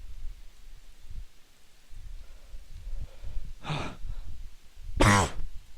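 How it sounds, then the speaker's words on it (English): A man coughs twice, a short muffled burst followed by a louder, sharper one, close to the microphone against a low background rumble. "Oh god, I got a cough."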